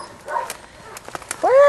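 Belgian Malinois puppies give short whimpers and yips, ending in a louder, rising whine, heard close and mixed with faint human voices.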